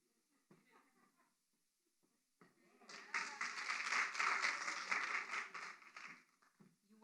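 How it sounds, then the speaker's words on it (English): Clapping from an audience at a women's entrepreneurship livestream swells after a brief pause and a few faint sounds, holds for about three seconds as a dense patter, then fades out. "Weren't supposed to clap."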